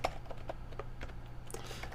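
Keys clatter on a computer keyboard as JavaScript code is typed, a quick, steady stream of light, close clicks without pause.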